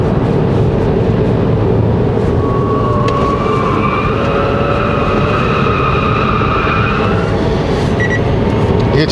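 Tires of a 2019 Chevrolet Bolt EV on stock setup squeal through the bends of a winding road, with sustained high whining tones rising and fading over a loud, steady road and cabin rumble.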